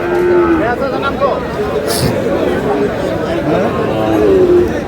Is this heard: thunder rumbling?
no